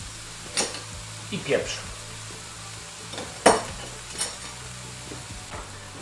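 Leek cooking in butter in a frying pan gives a faint, low sizzle, broken by a few sharp clinks of stirring. A brief voice speaks over it.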